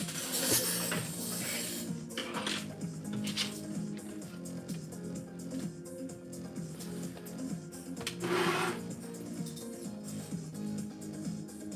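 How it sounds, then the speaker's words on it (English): A domestic sewing machine stitches across the bottom of a fabric bag, a steady mechanical whirr that runs close and continuous with small shifts in pace. "I'm gonna go ahead and sew on the bottom."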